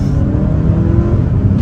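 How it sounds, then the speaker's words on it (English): A turbocharged 2024 Hyundai Santa Cruz pulls under half throttle at night, its engine and boost giving a steady, loud, close cabin drone with road roar and no voices. "we'll step in the gas about half throttle"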